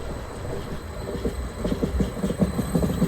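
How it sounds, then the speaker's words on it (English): A Class 74 passenger train passing Minnesund station on the Oslo–Lillehammer main line, a close, steady rumble with rhythmic wheel clatter and a thin high metallic whine. "Here we see a train class 74 heading toward Lillehammer"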